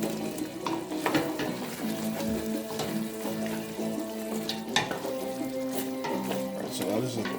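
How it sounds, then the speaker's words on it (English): Chunks of chayote go into a hot pan of frying stew with coconut milk, giving a steady sizzle and occasional stirring scrapes throughout, with no one talking. "Now I'm going to put my chayote or chocha inside."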